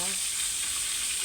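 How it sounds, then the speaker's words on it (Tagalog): Tilapia pieces frying in hot oil in a pan, a steady close sizzle filling the whole moment with no one speaking. "Tayo po ay nagpiprito ng tilapia."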